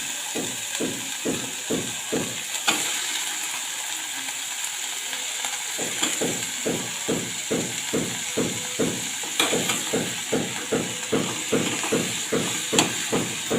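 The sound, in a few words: brinjal pieces sautéing with onion and tomato in a pan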